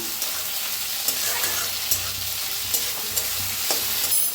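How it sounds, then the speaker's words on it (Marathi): Onion and tomato fry in a pan for a cauliflower-potato curry, a steady close sizzle with occasional scrapes and stirring taps throughout, no voices. "आता छान भाजायला लागलेला आहे"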